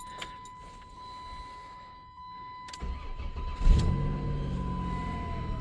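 A 1997 Dodge Caravan LE engine cranks after a few light clicks and clunks, catches with a brief rev, then settles into a steady, close idle, with a constant whine running underneath.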